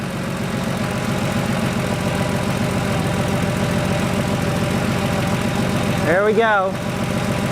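A Porsche 3.2 Carrera flat-six idles steadily around 800 RPM, a loud, close, even throbbing rumble that runs throughout, with a brief spoken remark near the end over the engine.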